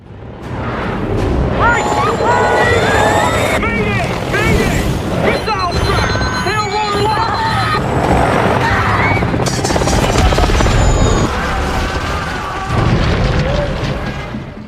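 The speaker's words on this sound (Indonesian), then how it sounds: "helikopter tersebut ditembak jatuh oleh pasukan Big Daddy." A loud, chaotic stretch of helicopter noise mixed with heavy booms and crashing impacts as a helicopter is shot down and explodes.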